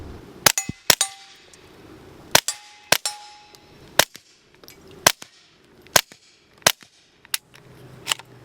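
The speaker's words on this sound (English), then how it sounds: "we should be able to hit steel and drive everybody nuts with the steel noises" A Taurus TX22 Gen2 pistol fires about a dozen sharp, separate shots at an irregular pace, many followed by a bright metallic ping as rounds strike steel targets.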